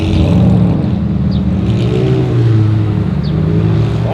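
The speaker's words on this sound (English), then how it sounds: "Oh, it's 720, but it's freaking loud." A murdered-out McLaren 720S supercar revs hard on a Zurich street, a loud, close engine snarl with rising and falling tones and continuous roar throughout.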